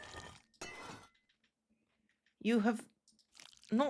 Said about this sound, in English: It's the sound of crushing a honeycomb.